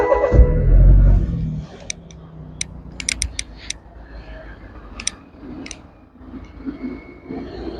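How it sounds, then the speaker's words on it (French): Front grille shutters of a BMW 330i M Sport opening as the car is switched on, heard as a series of brief mechanical clicks and creaks after a low thump, faint and close against a quiet room. "La calandre, quand on allume la voiture, elle s'ouvre."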